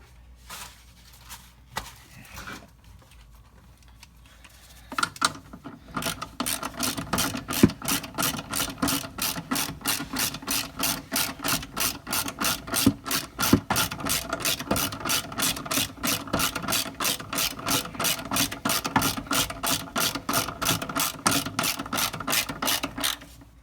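A hand ratchet tightens rear shock absorber bolts on a 2001 Honda Odyssey, a steady run of rapid, close clicks continuing for many seconds after a few scattered clunks.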